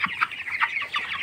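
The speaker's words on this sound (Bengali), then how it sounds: "এই মুরগিগুলোর বয়স আজকে 22 দিন।" Broiler chickens clucking in a poultry farm on a cold day, several short, close clucks and calls repeating in quick succession.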